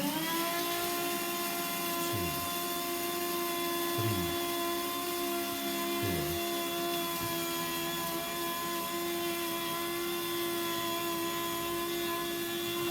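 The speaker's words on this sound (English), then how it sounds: "I'm going to put it in and I'm going to grind it for 5 seconds" A coffee grinder grinding beans fine for a vegan cappuccino, giving a steady loud motor whine with a sustained tone held throughout, plus a few brief low dips near the start.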